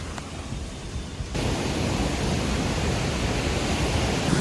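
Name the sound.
Sursing waterfall roaring in Helambu, Nepal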